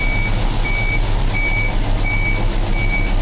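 Truck reversing alarm used as a comic effect over Superman walking backwards in Superman 64: a loud, steady electronic beep repeating at an even pace, about five beeps, over a constant low engine rumble.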